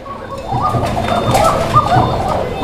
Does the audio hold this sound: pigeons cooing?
yes